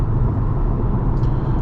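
A 2023 Chevy Bolt EUV electric car driving along, with a loud steady low road rumble and tyre noise throughout.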